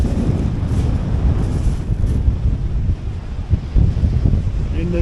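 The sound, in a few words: strong wind at the seaside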